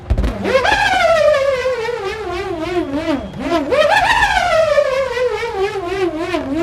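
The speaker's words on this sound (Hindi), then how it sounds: "और उस बलून के अंदर हम उससे बड़ा नट डालते हैं तो उसमें से इस तरह की आवाज़ आती है।" A larger nut spins inside an inflated balloon, giving a loud, close, vibrating whine that rises sharply, sags in pitch, dips briefly, then surges again before slowly falling, with no voices.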